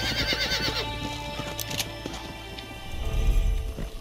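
Horse in the game Red Dead Redemption, with a whinnying neigh among clip-clopping hooves and game ambience, fairly faint, with a low rumble near the end.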